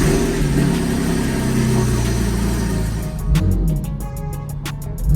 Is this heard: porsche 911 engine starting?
yes